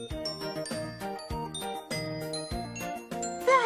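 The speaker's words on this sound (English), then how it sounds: "Aha! They're cowbells." Bright metallic cowbells clang in a steady, repeating rhythm, ringing clearly with tinkling overtones and no voices.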